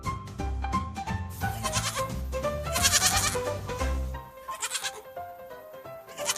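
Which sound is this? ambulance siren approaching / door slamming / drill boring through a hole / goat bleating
goat bleating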